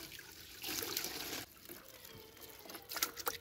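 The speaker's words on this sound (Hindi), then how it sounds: "इसमें भर लेना है 2 लीटर के बोतल में।" A liquid plant-treatment solution being poured into a 2-litre water bottle: a quiet, steady trickle that swells into fuller pouring, with a few splashy bursts near the end.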